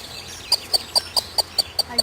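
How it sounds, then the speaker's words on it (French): A recorded call of an unhappy thrush: a series of about eight short, sharp, evenly spaced chattering notes, bright and clear, repeating at a steady rhythm over a quiet background. "Alors, la grive pas contente, on écoute."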